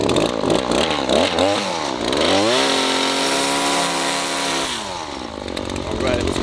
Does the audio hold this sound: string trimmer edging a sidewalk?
yes